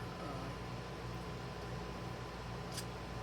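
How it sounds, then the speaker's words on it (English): A home air conditioner hums steadily upstairs in a warm room, a faint, constant low whir and broadband hiss running alone with no change throughout. "That is my AC."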